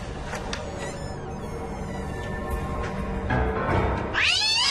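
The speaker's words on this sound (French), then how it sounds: "Miaou." A cat meows several times up close, drawn-out and wavering cries that grow louder, ending in a strong rising caterwaul.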